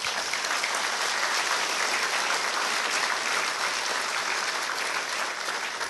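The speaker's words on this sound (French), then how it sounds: "Je voudrais vous demander de l'applaudir." An audience applauds pastor Gabriel Ambroisine, a first president, at a tenth-anniversary gathering; broad, even clapping from many hands holds at a steady level for several seconds without a break.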